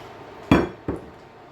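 Two sharp metallic knocks from a utensil striking an iron skillet while onion powder, garlic powder and salt are mixed together, close and distinct, the second a bit softer.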